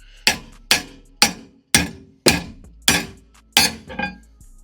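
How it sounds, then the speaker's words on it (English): A wrench is hammered against a rotor on a Scion xB: seven sharp metallic clanks land about half a second apart, loud and close, each ringing briefly with no talking. "And then you get a wrench and try to hammer the bitch off."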